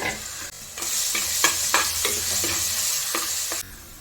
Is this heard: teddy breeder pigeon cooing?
no